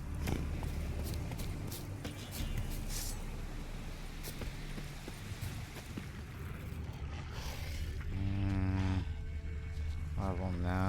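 The horse Roach in The Witcher 3, ridden at a steady pace under a constant wash of game ambience, then two short whinnies near the end.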